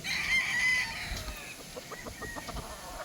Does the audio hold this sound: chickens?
yes